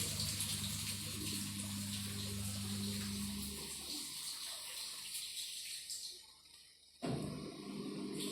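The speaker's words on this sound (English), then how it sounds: "the washing machine is still draining the water" Water draining from a Hisense WTCT802 top-load washing machine, a continuous rushing gush with a low hum that fades partway through, then a sudden shift to a brighter hiss near the end.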